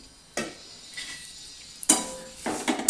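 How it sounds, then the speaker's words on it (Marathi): Dagad phool (stone flower) roasting in a little oil in a pan for Maharashtrian kala masala, a few separate scraping stirs and metallic clinks over a faint sizzle, close and quiet between strokes. "आता हे दगड फूल भाजून घेणार आहोत आपण तर याच्यामध्ये थोडंसं तेल टाकायचं भाजून घेण्यासाठी"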